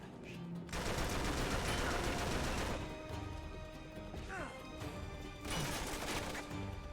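Gunfire in the video game Uncharted 3 comes in bursts of rapid shots and crashing impacts, with two long sustained volleys separated by brief pauses, fairly loud and dense.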